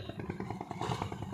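A 2022 Honda motorcycle engine idles and runs in a steady, pulsing putter, close and moderately loud throughout, with no talking.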